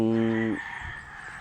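A rooster crows loudly and close on a poultry farm with broodcocks, a single sustained harmonic call ending abruptly, followed by quieter farmyard background.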